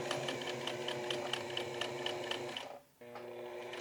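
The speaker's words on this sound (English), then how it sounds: "I'm putting that angle on the corners of the pocket flap too. Touch of top stitching." Sewing machine running steadily while top stitching a raincoat pocket flap, a close, continuous mechanical whir with rapid needle ticks that halts briefly near the end, then resumes.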